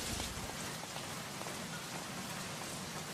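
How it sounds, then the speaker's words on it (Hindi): Heavy rain pours down in Bombay, a dense, constant hiss of drops hitting surfaces, close and loud throughout with no voices. "I hate rain."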